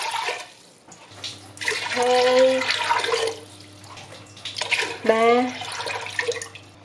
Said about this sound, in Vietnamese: Mình cho vào nồi 3 lít nước.